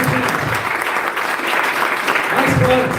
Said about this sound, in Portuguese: Então eu queria pedir uma salva de palmas